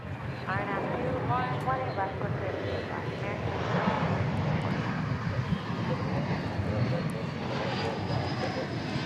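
An airliner in Piedmont livery rumbles at DFW Airport with a steady, broad engine roar that holds throughout, while people talk over it.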